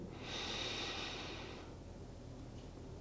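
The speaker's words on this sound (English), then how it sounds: "Breathe in." A person takes a long, deep breath in through the nose during diaphragmatic breathing, a soft airy hiss that fades after about a second and a half, close and quiet.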